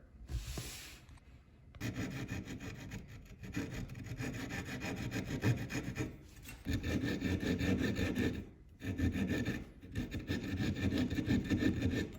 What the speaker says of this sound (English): just use a chisel to round out these 4 corners